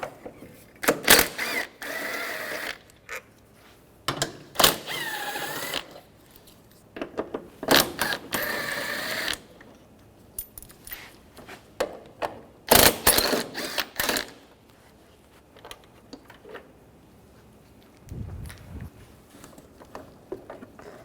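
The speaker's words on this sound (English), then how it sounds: "Using a 10mm socket, we want to take those 4 bolts out." A ratchet with a 10mm socket backs out headlight bolts on a 2007-2013 Mini Cooper, giving bursts of rapid mechanical clicking with pauses in between, close by and with no talk.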